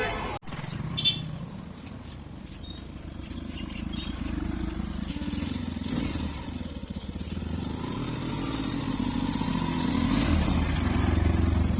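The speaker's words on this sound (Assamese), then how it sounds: "এইটো বাইকখন লৈ পেলাই মই ঘৰত যাই আছোঁ" Yamaha FZ-X motorcycle riding along on the way home, a steady low engine drone with wind rumble running throughout, moderately loud, with no talking over it.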